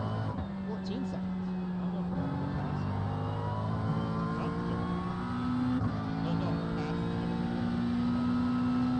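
Sports racing cars lapping the Circuit de Spa-Francorchamps in the iRacing sim, a steady layered engine drone with shifting pitches from several cars, with commentary voices talking over it.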